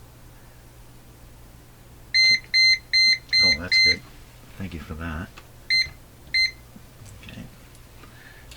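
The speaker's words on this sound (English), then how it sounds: "Fire alarm going off in the middle of this." A fire alarm in a room beside a National HRO shortwave receiver chirps in a series of short, shrill, evenly spaced electronic beeps, a run of five followed by two more, while someone speaks briefly in the middle.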